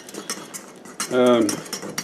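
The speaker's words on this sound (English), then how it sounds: "You just want to get all these ingredients in here mixed up and wet." Utensil stirring a lumpy rutabaga, onion and beer bread batter in a bowl, soft scraping and clinking strokes that swell in the middle, with a voice speaking faintly under it.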